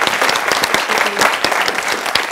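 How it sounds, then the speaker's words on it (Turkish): Audience applause in a Turkish talk-show studio, a steady dense patter of many hands clapping throughout, close and fairly loud with no voices over it. "Bir kocaman alkış."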